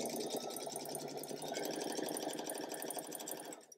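A sewing machine runs at speed while piecing quilt fabric, a fast continuous chatter heard close up that stops abruptly at the end.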